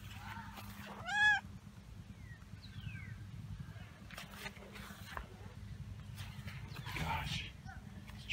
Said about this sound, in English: It's a very rare species. It's called feline.